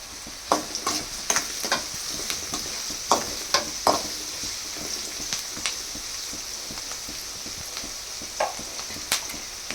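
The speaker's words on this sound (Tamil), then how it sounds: "இப்போ ஆனியன் சேர்த்துக்கலாம். ஆனியன் வதங்கிறதுக்காக உப்பு போட்டுக்கலாம்." Onions with salt frying in a pan after mustard seeds have popped give a steady sizzle, with repeated stirring scrapes and crackles throughout.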